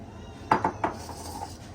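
A metal pan clanks against a stovetop or utensils in three quick, close metallic knocks while cooking pupusas, followed by a faint sizzle-like hiss.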